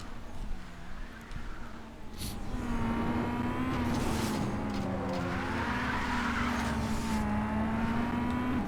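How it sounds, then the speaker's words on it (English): A BMW M3 engine in Need for Speed Most Wanted drones loudly and steadily, its pitch rising and dipping with throttle changes, with faint tire noise beneath and no one talking. "his BMW M3 actually sounds like the real one"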